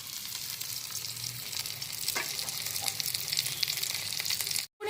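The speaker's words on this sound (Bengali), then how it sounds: "এবার মাছটা তাওয়াতে দিয়ে দেবো" Marinated fish frying in mustard oil on a tawa: a steady, close crackling sizzle running throughout with a few sharper pops, no talking, cutting off abruptly for a moment just before the end.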